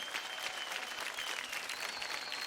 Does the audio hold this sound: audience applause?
yes